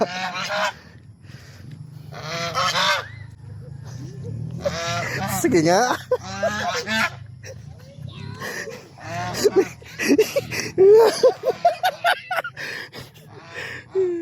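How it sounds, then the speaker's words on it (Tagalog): Geese honk repeatedly at close range beside Bitbit River on a nature trip, loud nasal calls in bursts, with people talking over and between the honks. "may gansa"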